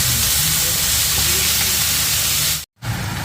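Loud, steady sizzling hiss of a Thai holy basil stir-fry with chilies frying in a hot pan, continuous and close, with a brief cut to silence near the end.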